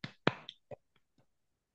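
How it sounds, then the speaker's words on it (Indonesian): Hand claps during an online children's coding lesson: a handful of sharp, dry claps close to the microphone, the first two strongest, the rest fading to faint taps. "Kita tepuk tangan dulu untuk diri sendiri."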